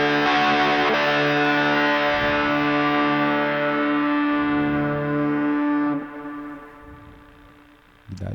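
Electric guitar played through a Valeton GP-5 with a long reverb tail and spacious ambience, a loud sustained chord ringing for about six seconds before fading out smoothly, heard alone.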